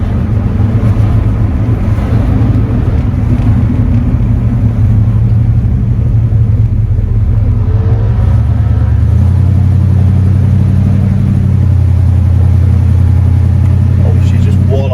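A 1974 Cadillac Superior hearse being driven: steady low engine rumble and road noise from inside the cabin, with a shift in engine tone partway through while a person talks over it.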